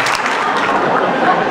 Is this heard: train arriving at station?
no